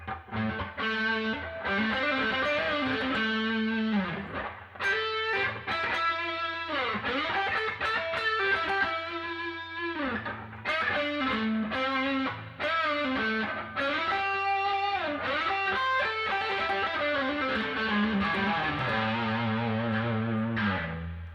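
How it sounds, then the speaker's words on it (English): Heavily distorted electric guitar, a 2015 Gibson Les Paul Les Plus on the neck pickup through ME70 distortion, with a warm, rounded tone playing a continuous riff of sustained chords and notes, loud and close, with no voices. "So let's do some distortion on the neck pickup."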